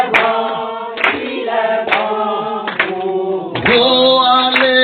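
Rhythmic church congregation clapping with light cheering, mixed with singing voices of Alleluia, loud and close, in a steady beat throughout.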